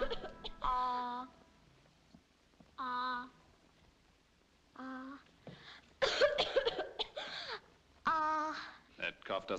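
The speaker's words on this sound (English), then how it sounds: "That cough doesn't seem any better" Someone coughs repeatedly in several harsh, raspy bursts with short pauses between, close by, some fits longer and more strained than others.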